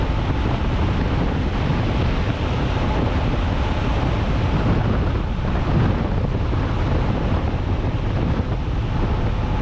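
Strong, steady wind roar buffets the microphone throughout a highway ride on a 530-pound Honda Africa Twin motorcycle, loud and continuous with no talking.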